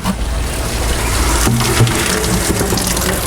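Wet plastics wastewater sludge pouring out of an emptied bucket in a quick, gushing splash, steady and close, with a brief heavier slosh midway.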